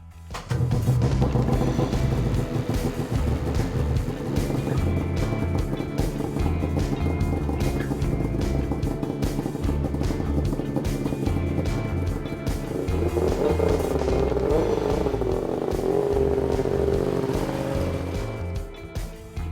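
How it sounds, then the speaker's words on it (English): A loud two-stroke big-bore Arctic Cat 800 C-TEC2 snowmobile engine with an MBRP performance exhaust drones and revs continuously with a raspy, buzzing exhaust note, rising in pitch toward the end. "the sound of a 2-stroke big bore with a quality exhaust system"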